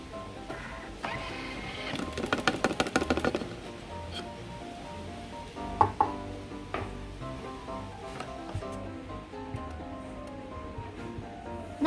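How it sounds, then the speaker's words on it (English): A hand-cranked flour sifter works flour and dry ingredients for an old-fashioned Indonesian spice cake, giving a quick rattling burst of rapid mechanical clicks followed by softer scattered taps and rustles, close by and without talk. "you can use the flour sifter to sift all the dry ingredients"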